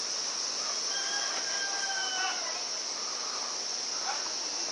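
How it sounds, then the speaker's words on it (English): A rooster crows at a distance over a constant high chirring of crickets, with no voices. "Got a rooster here."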